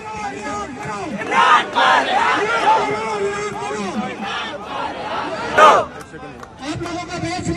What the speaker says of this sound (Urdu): وہاں پہ لوگ نعرے کیا لگا رہے تھے